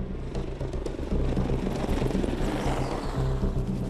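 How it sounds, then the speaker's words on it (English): A Boeing AH-64 Apache Longbow attack helicopter drones overhead with a heavy, continuous rotor thrum and whine, loud and steady throughout. "the most lethal attack helicopter in the United States inventory"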